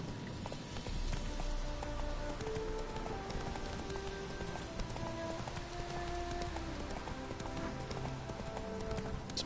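Roach the horse in The Witcher 3 trots along, hooves clip-clopping in a steady, continuous rhythm under game music and a soft rain-like wash.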